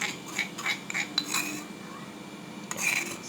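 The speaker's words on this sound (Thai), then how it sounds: "ใส่แล้วก็คนส่วนผสมทุกอย่างให้เข้ากันนะครับก่อนนำไปตั้งไฟ" Spoon clinking and scraping against a bowl while mixing a sauce of toasted ground white sesame and other ingredients for red pork rice, a series of light metallic taps and rubs close by.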